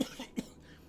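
A narrator imitates a loud cough, giving one brief throaty burst followed by a second short hack, close and fairly quiet, with silence after.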